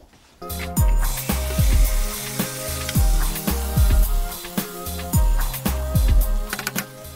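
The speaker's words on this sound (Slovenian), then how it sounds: "To vzamemo zelenjavo, ki se je prej pekla, skupaj z ribo in jo vržemo nazaj v isti vok" Roasted vegetables and fish dropped back into a wok that previously fried onions, giving a loud, close sizzle with repeated clattering tosses and scraping at a steady rhythm, no talking.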